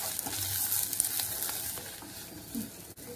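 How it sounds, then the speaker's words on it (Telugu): Gram flour (besan) roasting in a pan with a little fat, making a steady soft sizzle and scraping stir that continues throughout at moderate level. "కొంచెం దీంట్లోనే వేయించితే పచ్చివాసన పోతుంది."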